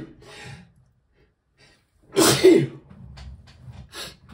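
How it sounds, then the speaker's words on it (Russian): A single loud, close sneeze bursts out after a few quiet breaths and sniffs, followed by softer breathing and a short snort. "Сейчас буду чих."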